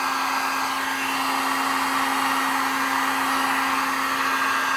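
Heat gun blowing steadily on a chemically melted plastic glove box cover from a Waverunner jet ski, a loud, continuous airy whir with a constant motor hum and no breaks or speech.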